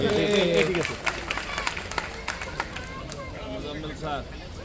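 Applause from a gathered audience at a college award ceremony honouring successful students, scattered claps with crowd babble and a voice talking over it, loudest at the start and thinning out afterward.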